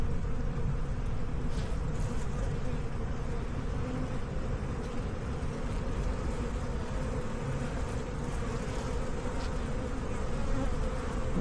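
Dense, steady buzzing of many honeybees close by from a queenless hive, a continuous droning hum with no voices.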